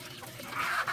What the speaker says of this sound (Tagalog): Bago na namang mga manok.